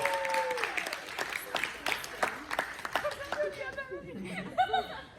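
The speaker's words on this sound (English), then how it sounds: "Give him a round of applause." A congregation at a sermon claps in scattered, uneven bursts. The applause is mixed with chuckles and laughter and fades under a voice.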